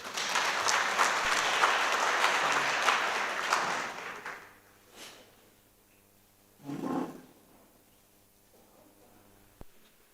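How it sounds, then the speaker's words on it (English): Audience applause at a youth parliament session, a loud dense burst for about four seconds that fades out, followed by a few scattered softer claps. "Can you clap hands for him?"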